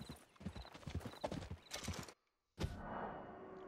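Horse hooves clip-clop in Red Dead Redemption 2, a quick run of close, loud footfalls that cuts to silence, then a sharp hit and a softer lingering rumble.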